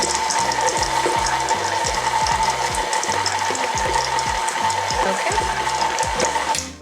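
Browned butter chocolate chip cookie dough with chocolate chunks is mixed by an electric mixer, a loud, close mechanical whirr with a rapid, regular clattering rhythm that runs steadily and then stops abruptly.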